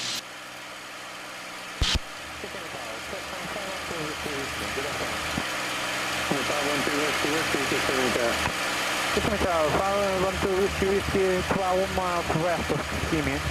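P-51 Mustang piston aircraft engine held at 2,500 RPM in flight, a constant loud, even drone heard from the cockpit, with a voice talking over it for most of its length.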